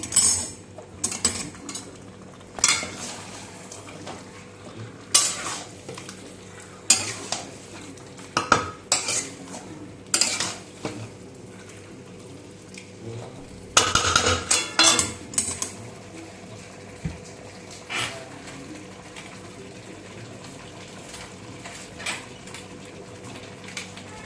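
A metal spoon stirring marinated chicken in a pan for a pachforon murgi curry, with repeated scraping clinks and clatters against the pan in an irregular rhythm, close and clear with no talking.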